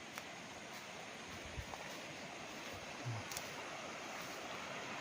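A river at a farm lot's property boundary in Cavinti, Laguna flows with a continuous soft, even wash of water, faint and steady throughout, with no voices.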